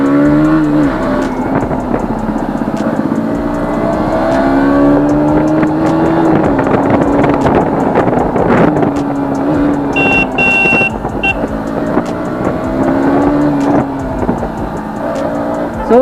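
A 2020 BS6 KTM Duke 200 motorcycle engine revs up and accelerates hard, rising and falling in pitch through gear changes, loud and close with wind rush.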